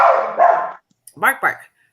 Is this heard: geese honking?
no